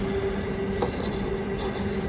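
A train running close by gives a continuous low rumble with a faint steady tone and a brief sharper clunk partway through.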